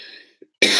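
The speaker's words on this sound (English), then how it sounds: "I'm coughing my butt off here." A single sharp cough bursts out near the end, loud and close, after a brief faint sound and a moment of silence.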